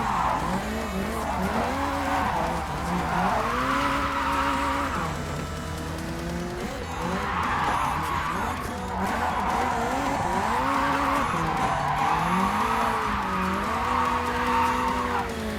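A drift car in the video game JDM sliding through corners, engine revving up and down in long sweeps with continuous loud tire squeal, steady and close with no talk.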